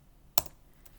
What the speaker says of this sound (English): I'll just type it out for you.